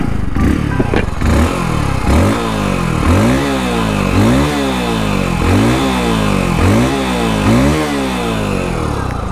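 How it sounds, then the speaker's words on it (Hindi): A 2024 Hero Splendor Plus Xtec 2.0 motorcycle exhaust revs repeatedly, about six rising and falling throttle blips in a steady rhythm, loud and close, with a brief voice at the start. "अब यहाँ पर एक बार एग्जॉस्ट नोट आपको मैं सुना देता हूँ"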